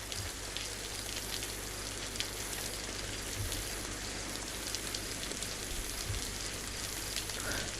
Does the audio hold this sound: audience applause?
no